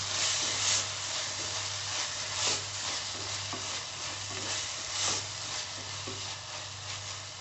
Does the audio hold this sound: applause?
no